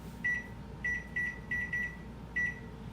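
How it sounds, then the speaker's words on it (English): Kitchen oven timer being set while coconut dark chocolate cookies bake at 325 for 12 minutes: six short, sharp electronic beeps in uneven pairs and singles, clear and close over a low hum. "Let me go ahead and set that timer."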